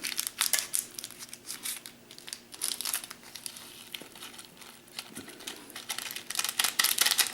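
Scissors snipping open a plastic seasoning packet for a corned beef brisket in a home kitchen, a series of crinkly cuts and rustles, close and moderately loud, with no talking.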